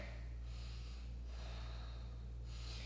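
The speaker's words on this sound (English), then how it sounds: "So we're gonna take a couple breaths here." Slow, deep breaths drawn in and pushed out during an advanced vinyasa flow yoga class, three soft breath cycles heard faintly over a constant low hum.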